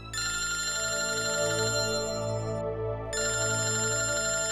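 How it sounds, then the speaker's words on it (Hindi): A telephone rings with a continuous electronic trill, loud and close, briefly pausing before the ring resumes over a low musical drone. "आदि के स्कूल से फोन"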